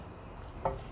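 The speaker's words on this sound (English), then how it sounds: "let's stir" Thai green chicken curry being stirred in a pan, with a faint steady sizzle under a single brief scrape or clink of the spoon near the end.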